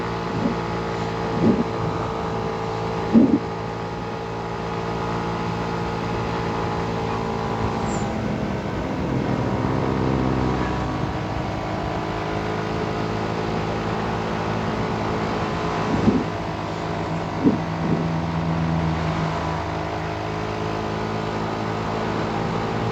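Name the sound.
motorbike engine while riding and shifting gears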